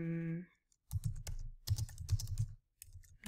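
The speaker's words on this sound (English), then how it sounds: "Let me type in nap and see what comes up." Close, brisk clicking of keys on a computer keyboard as a search is typed, with bursts of rapid taps separated by short pauses after a brief tone at the start.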